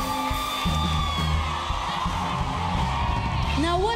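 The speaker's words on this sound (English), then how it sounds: "Give Julia a round of applause" A concert crowd cheers, whoops and yells in a continuous roar of many voices that stays loud throughout the short stretch.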